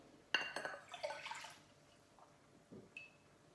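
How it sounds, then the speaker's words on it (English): A cup of warm water is poured into a bowl while making no-cook play dough: a short splashing gush near the start trails off into quiet drips and faint clinks. "I'm going to measure that out so that it's full and then pour that into the bowl."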